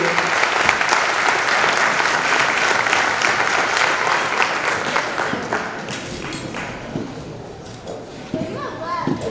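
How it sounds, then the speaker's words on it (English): Audience applause at a school board meeting honoring educators, a loud dense burst of clapping that gradually thins and fades, with children's voices and chatter rising underneath toward the end. "Ms. Halliday, and Mr. Nasir Dickerson, let's give our educators a round of applause for all that they do."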